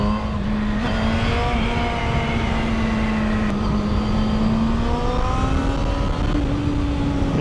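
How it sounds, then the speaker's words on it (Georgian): A Yamaha FZ6 motorcycle accelerates hard to overtake, its steady, loud engine drone climbing gradually in pitch over constant road and wind rush for the whole stretch, with no talking. "მაგრამ ჭირდებოდა აჩქარება, უცებ რო გადამესწრო"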